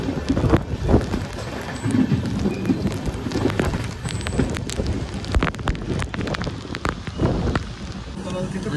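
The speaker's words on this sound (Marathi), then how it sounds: "मंडळी पाऊस बघा, पावसाने सुरुवात केलेली आहे." Monsoon rain drums around the Mandovi Express on the Konkan route from Thane to Sawantwadi, a steady wash with scattered knocks and rumble, and voices break in at moments.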